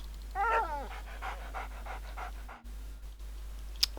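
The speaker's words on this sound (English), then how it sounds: "And this is a dog." Dog panting in the Arx Fatalis video game, a quick rhythmic run of breathy pants with a short whimpering whine near the start, close and moderately loud, followed by quieter ambient tavern background.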